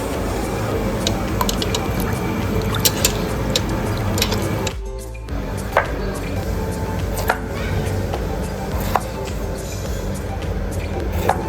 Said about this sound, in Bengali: টমেটোগুলো ভালো করে ধুয়ে নিচ্ছি